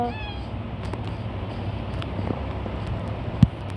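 A kitten in a video game gives a short high meow at the very start, followed by low wind-like background noise and a few faint clicks.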